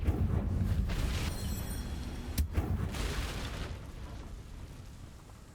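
A Confringo fire spell in the Hogwarts Legacy game bursts in a loud, rumbling explosion that decays over several seconds, with a second sharp blast partway through.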